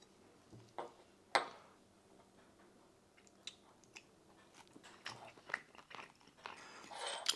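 Someone eats air-fried salmon close to the microphone, with soft chewing and occasional sharper bites and crunches. A faint background hum runs underneath.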